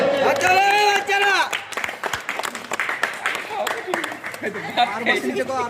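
Scattered hand clapping during an outdoor blindfolded game of drinking water from a bottle through a pipe, short claps mixed with excited shouting and chatter from a nearby group.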